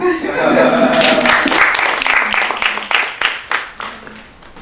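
An audience applauds under a voice that talks and laughs. The clapping fades into a few scattered claps.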